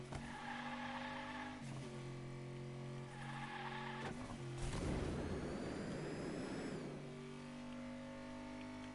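Brakes and tire skid of Squidward's car in a SpongeBob kart racing video game, a loud screech swelling midway over steady engine drone and game music.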